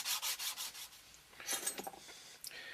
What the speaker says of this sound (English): I just need to keep rubbing it